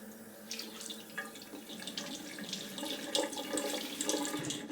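Tap water runs steadily into a sink while a face is wetted before shaving, a close, continuous splashing hiss with small uneven surges and drips.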